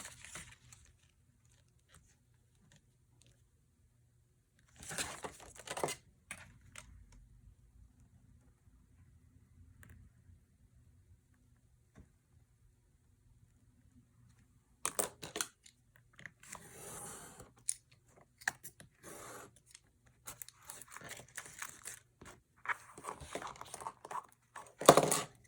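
Scissors cutting paper for a junk journal built from an altered book, heard as bursts of close snipping and paper rustle with long quiet gaps between them.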